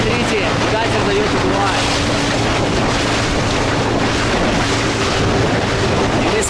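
Motor boat running on the open sea off the rocky Tarkhankut coast of Crimea, a steady engine drone with low tonal hum mixed with wind buffeting and wave wash throughout.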